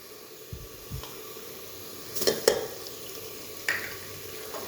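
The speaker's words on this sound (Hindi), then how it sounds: "और अब इसकी भी बीच में ऐसे भुनाई करते हैं।" Garlic ginger paste fries with onions in a pan for a Punjabi chicken curry, giving a steady low sizzle under a few scattered scrapes and clinks of stirring, close by with no talk.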